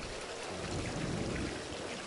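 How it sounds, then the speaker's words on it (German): Running water in the video game Satinavs Ketten, a steady, soft rushing and bubbling like a small stream, continuous and fairly close. "Fließendes Wasser."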